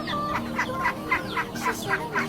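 Birds, sounding like chickens, give a series of short, regularly spaced clucking calls in the provincial countryside, fairly close and moderately loud, with no talk.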